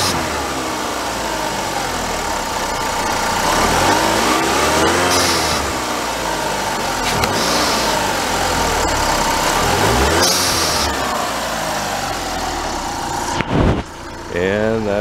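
Chrysler PT Cruiser engine fitted with a blow off valve, revving up and down in repeated swells with whooshing releases between them, loud and close, ending abruptly.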